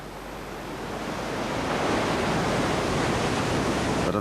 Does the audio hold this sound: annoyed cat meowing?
no